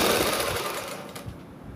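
A sewing machine runs steadily while stitching a strip onto an angrakha-style suit, a continuous close mechanical whir with a fast needle rattle throughout.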